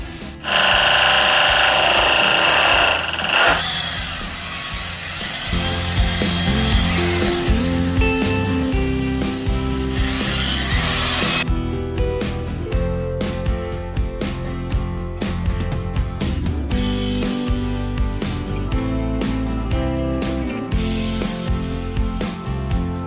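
A power drill bores holes for black screws while glass panel pin lights are being fitted, with a loud burst at the start, then rougher continuous drilling mixed with clatter and tapping.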